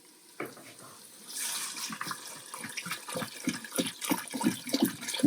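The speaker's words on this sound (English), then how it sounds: "And we're filling half a gallon, which is about 8 cups of water." Tap water runs into a half-gallon container for an Instant Pot beef Asian soup, a steady splashing rush with gurgles that grow louder as it fills.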